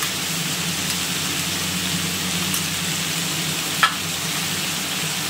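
Onions fry with turmeric and masala in a pan for a crab masala, giving a steady close sizzle with soft stirring scrapes and one brief sharp clink partway through.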